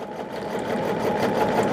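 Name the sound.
sewing machine stitching a quilt block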